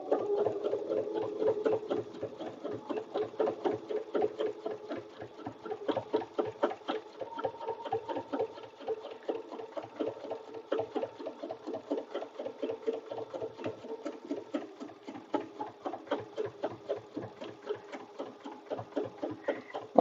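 A sewing machine stitching an appliqué tree motif, a fast, steady mechanical chatter of needle strokes close by, pausing and restarting in short bursts with no talk.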